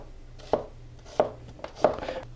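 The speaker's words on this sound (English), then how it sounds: "Now all I have to do is cut these half rings." A knife slices an onion into half rings on a cutting board, giving three distinct crisp chops spaced about two-thirds of a second apart, close and clear against a quiet kitchen background.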